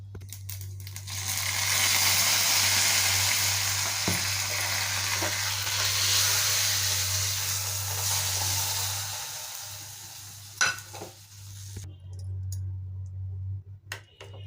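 Cooked sorrel leaf thokku is mashed and stirred with salt and roasted mustard-fenugreek powder, making a continuous close scraping, squelching churn over a steady hum, with a few sharp clicks near the end.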